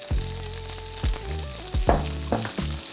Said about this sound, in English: I'm gonna saute these for about 2 minutes or so.